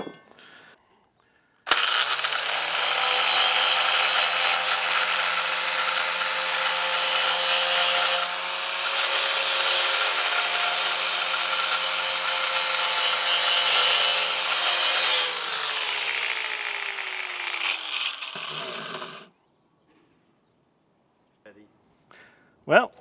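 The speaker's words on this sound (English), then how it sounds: "So let me clean some of this paint off." Power tool grinding or wire-brushing paint off a steel beam before welding a bracket, a loud steady abrasive whir lasting about seventeen seconds, then spinning down and stopping, followed by quiet.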